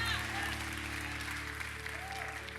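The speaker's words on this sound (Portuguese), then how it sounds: "dá uma salva de palmas para o Senhor" A church congregation applauds the Lord with steady, dense clapping across the room, under a hum of voices.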